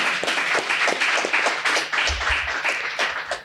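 An audience at a Gujarati literary gathering claps steadily, a close, even patter of many hands throughout without any talk.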